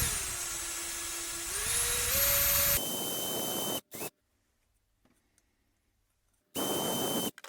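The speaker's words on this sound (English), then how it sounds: "I've just got to drill a hole again now where the original hole was." A small power drill bores a hole into the plastic headlight washer jet bracket of a Jaguar X-Type, its whine rising and shifting in pitch for a few seconds before cutting off, then a brief second run near the end.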